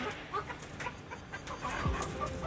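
Young hens cluck softly and intermittently at a distance, a few short clucks over quiet background noise.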